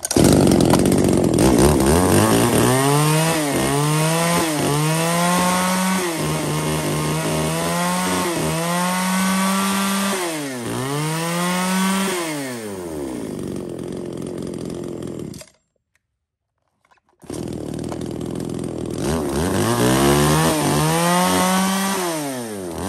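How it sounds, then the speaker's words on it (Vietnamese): A Makita long-handle chainsaw runs loud and close, its engine revving up and down in repeated surges and idling between them, with a brief cut-out before it roars again. "Q4 là một con máy cưa xích hệ tay dài thương hiệu Makita"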